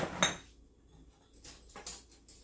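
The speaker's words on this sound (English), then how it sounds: "I like using a metal spoon versus wooden to taste." A metal spoon clinks against a pot while chicken pie filling is tasted in a home kitchen: one sharp metallic clink, then lighter scraping taps, close and clear in a quiet room.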